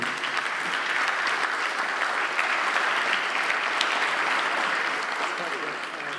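Sustained applause from a conference audience at a space technology forum, steady and dense clapping throughout with no pauses.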